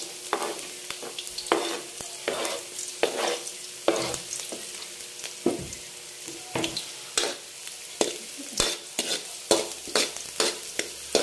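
Onion and garlic frying in a pan, a steady sizzle broken by regular scraping stir strokes, close up and fairly loud, with no voices.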